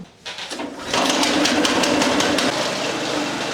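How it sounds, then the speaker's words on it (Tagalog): A Briggs & Stratton engine-driven shredder machine starts up and settles into a loud, steady running drone close by, with a rattling mechanical clatter over the engine hum. "Ito po, ang ating shredder machine, kagaya nito, order po sa atin to."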